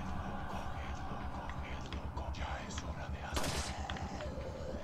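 A single loud, sharp gunshot at a lock in the horror shooter Resident Evil 4 cracks out near the end, over a low steady background rumble while people talk quietly.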